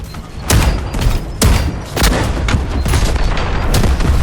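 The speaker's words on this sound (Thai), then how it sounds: "โอ้โหระเบิด ระเบิด ระเบิด" Explosions and gunfire in the video game Delta Force Hawk Ops: heavy booms land every second or so among continuous rattling shots, loud and close throughout.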